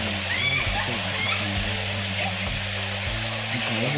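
Stream water runs steadily over rocks near Ubbalamadugu waterfalls, a continuous close rushing wash with someone talking over it throughout.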